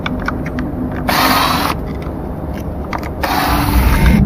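Power screwdriver backing out the cover screws on a self-balancing scooter, with a steady whirring hum that swells loudly in two bursts of roughly half a second, a pause between them, and no talk.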